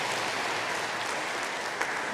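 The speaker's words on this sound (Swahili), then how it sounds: "Makofi kwa Kristo" A church congregation at a wedding breaks into steady, dense applause, many hands clapping together in a continuous wash of sound.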